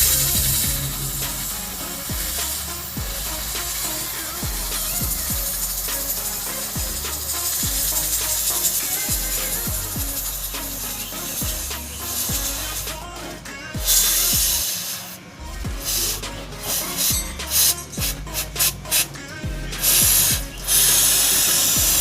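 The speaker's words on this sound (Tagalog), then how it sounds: "So ngayon, spray na natin to dito sa kadena natin." A motorcycle chain turns with a steady ratcheting, clicking whir while Koby chain maintenance spray hisses onto it in bursts, close and fairly loud throughout.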